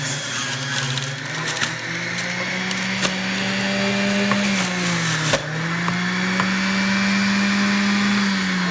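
A juicer grinding peppers, a loud, close motor whine that shifts pitch as pieces are pushed through, with crunching snaps and rattles over the steady drone.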